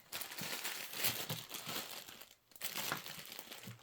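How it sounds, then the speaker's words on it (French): A cross-stitch canvas is unwrapped from its plastic packaging, giving close, continuous crinkling and rustling with a brief pause midway. "je vais essayer d'ouvrir la toile"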